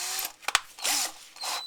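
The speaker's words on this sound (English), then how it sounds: "Then using the spot weld drill," A spot weld drill cuts out spot welds on an MGB body during cross member replacement, giving two short grinding bursts with faint whine, preceded by clicks and handling knocks.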